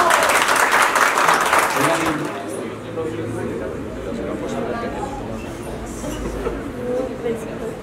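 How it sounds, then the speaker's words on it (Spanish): Guests at a wedding ceremony burst into applause, loud clapping for about two seconds that fades as voices and room murmur take over. "¡Un aplauso!"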